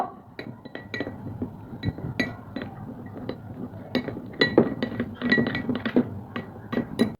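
A turmeric face pack being stirred in a bowl, with a utensil clinking repeatedly against the bowl in an irregular rhythm, close and fairly soft, with no voices.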